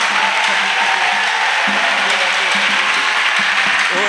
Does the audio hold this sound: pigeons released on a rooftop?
no